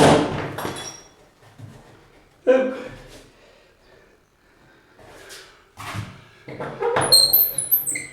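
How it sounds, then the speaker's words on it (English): During a tiny house renovation, half of a tight-fitting door hinge drops off with a sharp clatter and knock, followed by scattered bumps and clunks between quiet gaps, with some voices in between. "That was the hinge just dropped off, or half of it anyway."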